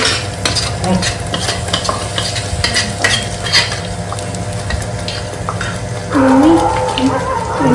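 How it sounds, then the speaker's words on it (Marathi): Crab gravy poured into hot oil sizzles loudly and steadily, with a spoon stirring and scraping the pan throughout and a brief gurgle of pouring liquid near the end, all close up. "तर आता तेल तापलंय, ते त्यात टाकून घेऊ आता हळूहळू. सगळी ग्रेव्ही टाकायची."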